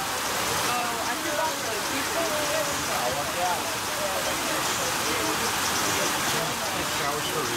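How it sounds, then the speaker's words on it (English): Rain comes down at an outdoor school soccer district championship game, a dense steady patter and hiss of drops on surfaces throughout, with murmuring voices faintly underneath. "How can you shoot in the rain?"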